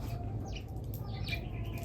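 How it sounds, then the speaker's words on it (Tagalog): Birds chirp faintly in the distance, several short thin calls scattered over a steady low background hum, with no talking. "kaya nagparamdam yung mga ibon dito"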